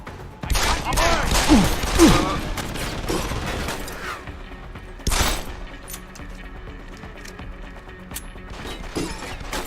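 Gunfire in the video game Deus Ex: Human Revolution. A dense volley of sharp shots and impacts comes first, followed by a single loud blast midway and scattered mechanical clicks, and a voice can be heard at times.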